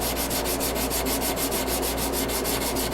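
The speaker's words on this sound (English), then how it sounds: "Hand file the bevels in." Knife bevels being hand filed, with quick, even rasping strokes repeating in a steady rhythm, close and loud with no voices.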